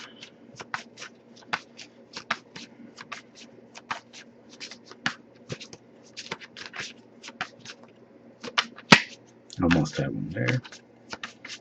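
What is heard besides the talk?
shuffling tarot cards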